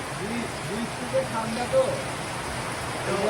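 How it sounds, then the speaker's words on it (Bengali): Rain falls steadily as a soft, even wash of noise, fairly faint, with a few brief louder patters. "আমরা বৃষ্টিতে ভিজতে পারছি"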